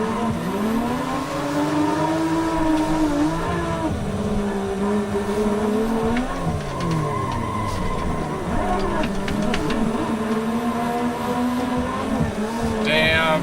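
In BeamNG, a simulated van drifts with its engine revving and falling in sweeping arcs while tires squeal and skid through the turns, a continuous game mix with brief bursts of scraping.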